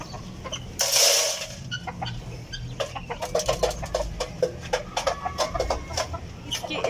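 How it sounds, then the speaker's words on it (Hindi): Chickens cluck and peck close by while being fed grain, a quick, busy patter of soft calls, with one louder squawk near the start. "मुर्गियों के आगे दाना डाला है क्योंकि बच्चे आज नहीं डाल के गए।"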